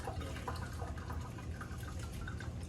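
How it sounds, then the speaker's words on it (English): Green beans are rinsed under running water in a kitchen sink, giving a steady, soft wash of flowing and splashing water throughout, with no talk. "I'm gonna rinse these another time"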